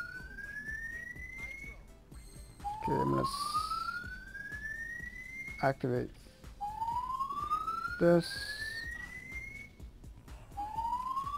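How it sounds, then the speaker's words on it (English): A fire alarm sounds during a Yu-Gi-Oh! Duel Links session: a rising, repeating whooping siren tone sweeps upward several times with pauses, heard indoors at moderate level while a person speaks and sharp beeps cut in. "Sorry about the fire alarm."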